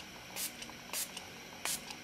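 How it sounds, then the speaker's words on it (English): Milani Make It Last setting spray is misted onto a face in three short, sharp pumps, each a soft, breathy hiss spaced apart, quiet and close with no speech. "I'm going to go ahead and set my face with this"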